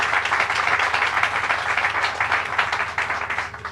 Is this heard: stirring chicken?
no